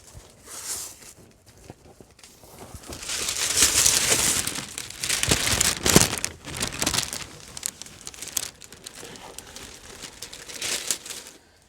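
Thermal liner insulation is peeled back and crinkled during a camper conversion, giving close, irregular crackling and crumpling bursts that swell and fade over several seconds.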